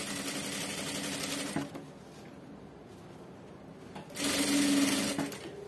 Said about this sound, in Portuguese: Vou costurando aqui na beiradinha,